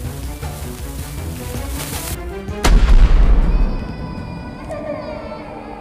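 Gunfire in the video game The Baby in Yellow, a single loud close shot with a booming tail, set against a dense game soundscape that thins to quiet ambience after the blast.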